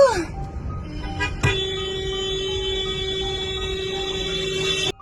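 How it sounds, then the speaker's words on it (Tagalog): One long, sustained car horn blast held steadily for several seconds, loud and close, cutting off abruptly at the end, with a few short tones just before it. "Mula sa mahabang busina na ginawa ng uploader"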